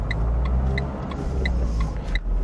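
A car pulls away in first gear at a junction during a driving lesson in Ris-Orangis/Grigny, France, its engine a steady close low rumble with faint rhythmic ticking above, no talk over it.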